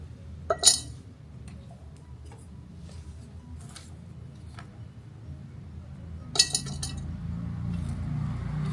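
Cut bamboo shoots and rock salt dropped into a glass bottle, heard as two sharp glassy clinks several seconds apart with faint taps between over a low background hum.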